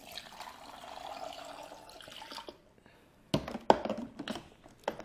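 Water poured into the chamber of a Conair Cuisinart BFM 1000 baby food maker, a soft steady pouring stream for a couple of seconds, then brief splashes and clinks as it ends, close by with no talking.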